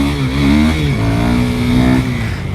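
A KTM Duke 390 motorcycle engine revs hard for a wheelie, the pitch climbing and shifting as throttle rises, loud and close with no talking.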